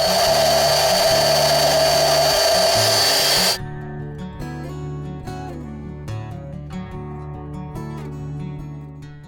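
A blender loudly whirs through appam batter made with fresh grated coconut for several seconds, then cuts off abruptly, leaving only background music.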